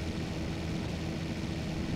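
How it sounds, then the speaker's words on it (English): Airplane flying overhead, a steady, faint droning hum heard from a distance with no other sounds over it. "I hear an airplane, too."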